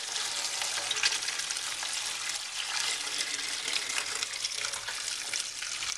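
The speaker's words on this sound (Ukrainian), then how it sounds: "Зараз я відкрию кран ще." Steady rushing hiss of running tap water pouring into a pot, continuous and fairly close, with no talking.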